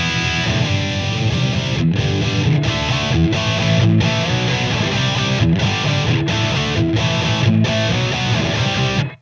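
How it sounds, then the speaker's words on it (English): Heavily distorted rhythm guitar with mid-forward P90 pickups through an Engl Powerball II amp, played as loud, dense chugging riffs with a noise gate cutting to brief silences between phrases, no talking. "That's a really good rhythm guitar. It's heavy distortion, but great sort of distorted rhythm guitar."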